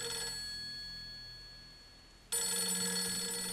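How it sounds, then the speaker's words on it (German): A telephone rings in the video game Project Zero 3: The Tormented, a steady electronic bell tone that fades, then returns abruptly louder and sustained. "Telefon. Ich eile."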